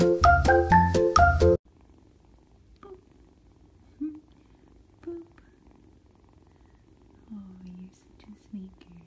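A kitten purrs softly and low, close by, after a brief burst of voice at the start, with small scattered sounds around it.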